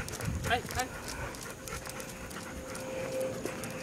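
Adopted Malamutes pant rhythmically during skijoring training, quick breathy huffs close by, mixed with jingling and outdoor movement while a person talks encouragingly over them.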